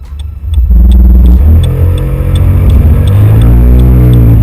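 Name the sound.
Kymco K-XCT Sport 125 scooter accelerating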